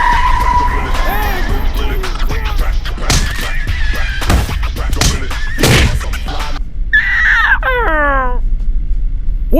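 A car skids with squealing tires during a heated argument inside the vehicle, the loud screech surging around the middle of the stretch while voices shout over it, followed by rising whooshing chirps at the end.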